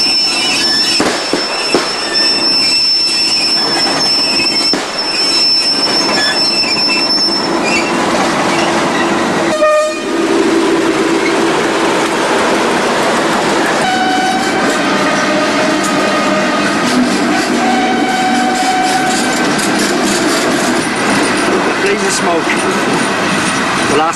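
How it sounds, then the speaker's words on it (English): A heavy coal train pulls away from Oakdale Colliery on rails, wagons clanking and rumbling, wheels squealing at times, with a sharp bang midway through the long passage. "Coal train leaves Oakdale."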